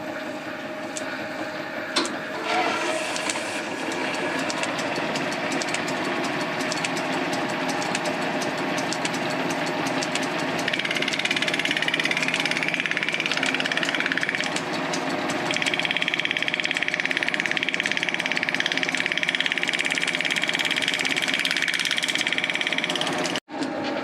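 A wooden pattern machined on a lathe for a model engine's crank, turned concentric: a loud, continuous mechanical drone and whine with shifting cutting tones, running throughout and cutting off abruptly at the end.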